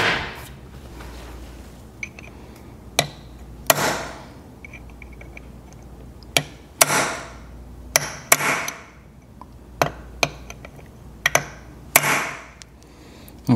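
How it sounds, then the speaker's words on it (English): A hammer re-peening a clutch part from a Suzuki Bandit 1200 during a clutch replacement, striking as a dozen or so sharp, close metallic blows at irregular intervals over quiet background noise. "I'm gonna take a hammer and kind of re-peen it here"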